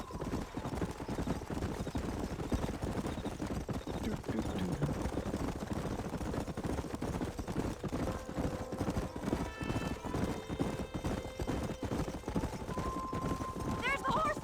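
Galloping horse hooves clip-clop rapidly and continuously in the Western video game Red Dead Redemption, with an occasional whinny, under spoken dialogue and some background music.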